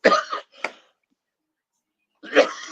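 A couple of short, rough coughs close to the mic, followed by a long silence and then another burst of throaty noise.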